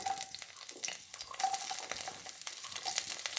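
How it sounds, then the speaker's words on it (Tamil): Beans, carrot and potato pieces fry in hot oil in a kadai, a close, steady crackling sizzle with occasional stirring clatters and pops. "கேரட், உருளைக்கிழங்கு முதல்ல இது நல்லா வறுத்துவோம்"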